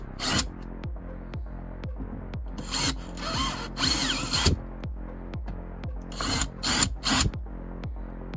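Close, loud power drill whirring in short repeated bursts with brief pauses while drilling a Vauxhall Corsa D door card, several longer high-pitched runs in the middle, no talking.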